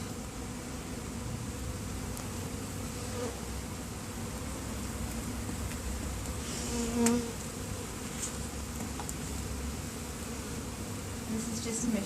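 Dense, continuous buzzing of many bees fills the clip at a steady level, close and unbroken.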